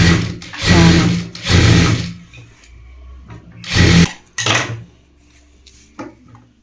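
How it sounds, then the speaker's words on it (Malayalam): A sewing machine stitches along the folded top edge of a burqa hem in short, loud whirring bursts separated by pauses, with quieter clicks and handling noises between runs. "ഇനി ഇത് മടക്കിയ ആ മുകൾ ഭാഗത്ത് കൂടെ ഇങ്ങനെ സ്റ്റിച്ച് ചെയ്യുക."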